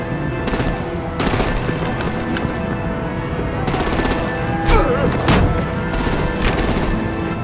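Rapid automatic gunfire in the Batman: The Enemy Within game, loud close bursts of clattering shots with brief gaps, layered over a tense background score.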